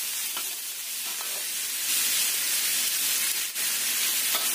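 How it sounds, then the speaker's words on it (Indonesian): Tofu stirred in a frying pan, a steady loud sizzle and hiss of frying with faint scraping strokes of the utensil throughout, close and continuous, no voices. "Masukkan tahunya. Sampai tercampur rata."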